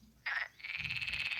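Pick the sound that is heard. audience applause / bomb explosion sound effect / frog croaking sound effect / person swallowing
frog croaking sound effect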